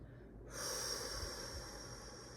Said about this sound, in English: Elongated exhales out your mouth.